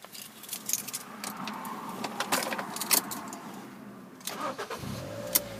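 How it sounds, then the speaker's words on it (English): Keys jangle and a used car's engine cranks and starts, close up, with rattling and clicks from the ignition followed by the motor catching near the end; no talk. "There is 2 sets of keys with the vehicle, and just getting the car started."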